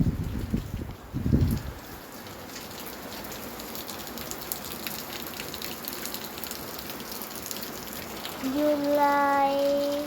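Steady rain pours down outdoors, a dense continuous hiss of falling drops, with a brief voice at the start and a tonal sound near the end.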